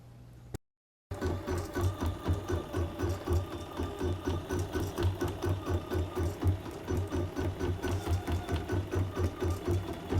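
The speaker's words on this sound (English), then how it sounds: "I've gone ahead and started stitching my elephants on the bath mat" Sewing machine stitching elephants onto a bath mat, running steadily and rhythmically with a rapid repetitive mechanical thump after a brief silence at the start.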